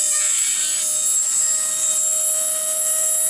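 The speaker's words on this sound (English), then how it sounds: "I'm going to start grinding these ribs out of here, and I'm just going to use this die grinder" Die grinder grinding reinforcing ribs out of metal during a Land Rover engine swap, a continuous high-pitched whine with a steady tonal drone, loud and close with no talking.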